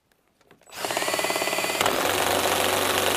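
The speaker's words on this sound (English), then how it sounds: "Oh man, the DeWalt is just not liking this at all." A DeWalt cordless drill kicks in after a brief pause and grinds hard under heavy load, its motor whining loudly and steadily close by with rough, labouring pulses as it strains.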